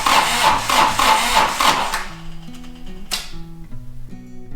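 A Toro Reelmaster 3100D diesel mower cranks hard on its starter motor in a loud, rapid, pulsing churn for about two seconds, then cuts off, leaving quiet ticking and a faint low hum.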